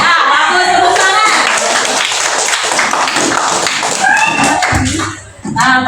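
Classroom of students breaking into clapping, dense overlapping hand claps filling the room alongside chatter and voices, fairly loud and close, fading briefly near the end.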